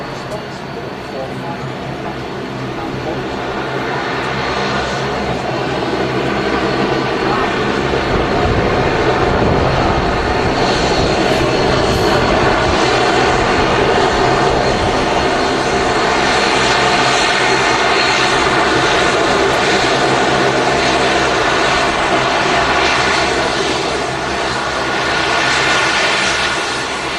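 An Emirates airliner, flight 483, rumbles with sustained engine noise that rises from a softer start into a heavy, even roar, with a voice talking over it.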